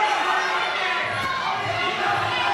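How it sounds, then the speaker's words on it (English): A Melbourne kickboxing crowd roars and cheers on its feet, a continuous loud wash of shouting voices with no clear breaks. "Crowd are literally on their feet, Johnny Cap."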